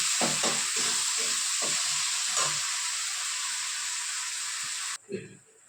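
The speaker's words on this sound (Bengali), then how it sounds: "মশলাটা ভাজা ভাজা করে নিই।" Green chili, ginger and garlic paste spice mix fries in hot oil for matar paneer, a loud steady sizzle under a few low voices in the first seconds, cutting off abruptly near the end.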